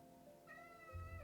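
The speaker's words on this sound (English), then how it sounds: "I think I heard a cat." A cat gives one faint meow against a quiet background, a brief rising call followed by a low murmur.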